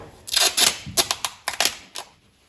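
Masking tape is ripped and pressed onto a 1972 GM A-body package shelf part in a run of short, sharp tearing bursts, about eight quick crackling pulls close up, with no talking.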